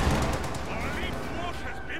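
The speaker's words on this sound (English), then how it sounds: "Panzer Grenadiers catch that Sherman slightly out of position and get a nice volley off" Panzer Grenadiers fire a rifle volley in a World War II strategy game, a quick burst of overlapping gunshots with crackling echoes, heard beneath a commentator's talk.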